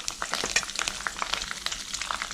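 Chana dal, urad dal and curry leaves fry in oil in a pan on low heat, giving a close, crackling sizzle with irregular pops and stirring, with no talking.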